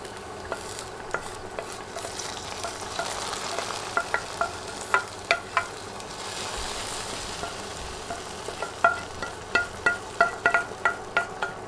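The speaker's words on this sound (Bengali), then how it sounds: "এরপর রান্না হতে থাকা মাংসে ফোড়ন দিয়ে দিচ্ছি" Hot onion tempering hits a pot of simmering chicken curry with a loud, steady sizzle, broken by repeated sharp spattering pops and stirring clatter close by.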